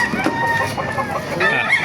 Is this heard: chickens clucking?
yes